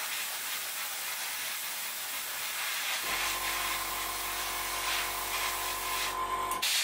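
An airbrush sprays Mr. Colour paint over a Lightning aircraft model in a constant, close hissing stream, joined partway through by a steady low mechanical hum that runs until it cuts off at the end.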